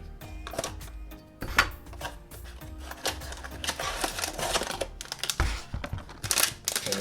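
Blind box packaging being opened by hand, with close, crisp crinkles, taps and clicks of plastic and cardboard in an irregular rhythm, fairly quiet and without speech.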